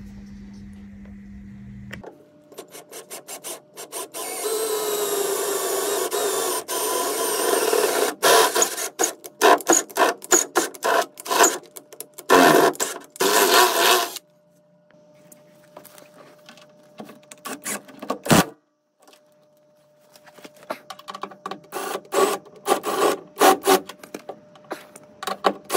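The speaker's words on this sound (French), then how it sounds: "j'ai mes 4 trous, donc je perce et après j'ai plus qu'à fixer mon baquet en lieu et place" Power drill boring four mounting holes for a rally car bucket seat, a sustained buzzing whir in several bursts with short pauses between, fairly loud and close, no talking.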